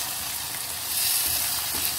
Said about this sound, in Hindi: अब हम अच्छा सा मसाला भून लेंगे।